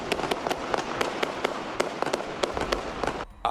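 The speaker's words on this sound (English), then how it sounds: "right before the sound of multiple gunshots ring out" A rapid series of sharp cracking bangs, a dozen or more in quick irregular succession, loud and somewhat distant-sounding, stopping abruptly near the end.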